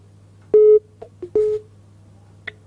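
Phone call ending tones, with a few short electronic beeps and tonal blips in an irregular pattern, close and fairly loud against a low steady hum, and no one talking.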